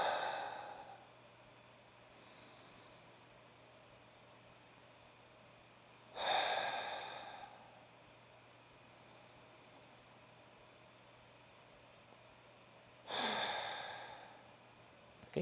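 Three slow, deep breaths drawn in to fill the shoulders, each a soft airy rush followed by a fading exhale, spaced several seconds apart over a quiet low hum.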